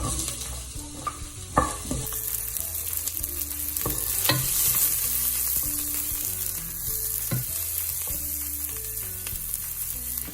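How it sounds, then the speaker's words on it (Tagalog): Onions sautéing in olive oil in a pan, with a steady sizzle running throughout, broken by scattered stirring scrapes and a few sharper clinks near the start, heard alone without talk. "paiinitin lang natin ng konti, tapos igigisa natin yung sibuyas"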